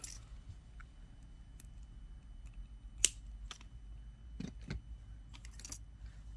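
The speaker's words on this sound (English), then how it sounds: "So I'm going to just cut this wire right here." Jewelry wire snipped with cutters while making a beaded anklet: a single sharp click stands out, followed by a few lighter ticks and handling rattles close by, with no talking.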